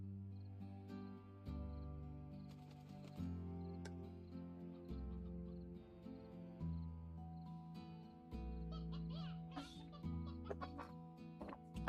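Chickens cluck in Slime Rancher while a steady game music soundtrack plays throughout, with short clucks and squawks scattered over the back half of the stretch.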